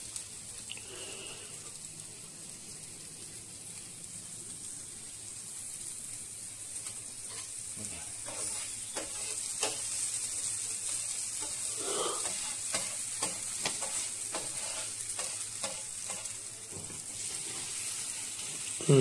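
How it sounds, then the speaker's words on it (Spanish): Red and green bell peppers sautéing in a pan for rice with langoustines and squid, a continuous close sizzle with frequent stirring clicks and scrapes growing busier midway. "Y ahora vamos a sofreír un poquito lo que es el pimiento, el rojo y el verde"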